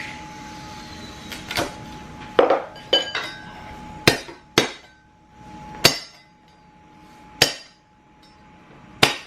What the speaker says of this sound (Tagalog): crush ako ng bawang, na garlic